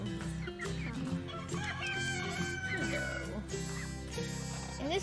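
Blue laced Red Wyandotte chickens cluck and crow in a coop, a busy, continuous flock chatter with a person talking over it throughout.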